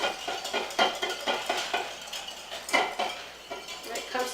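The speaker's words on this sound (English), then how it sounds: "Whisk that together." A utensil whisks sauce ingredients together in a bowl, producing quick rhythmic clinks and scrapes against the sides in close, continuous strokes, with no talking.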